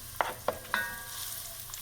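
Onions sizzle quietly in extra virgin olive oil in a pan. Three sharp scraping taps from a stirring utensil stand out over the soft, steady frying hiss.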